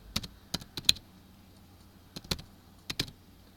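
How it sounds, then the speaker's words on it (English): Keystrokes on a computer keyboard in irregular bursts: a quick cluster of clicks, a pause, then a few more taps, close and fairly quiet, with no talking. "So what I will do is I will type it."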